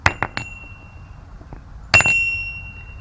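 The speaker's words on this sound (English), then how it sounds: "I might be able to use those as bells. Listen." A few sharp metallic taps, then a clear bell-like ring that sustains and slowly fades, from a cut-off piece of gas bottle struck and resonating.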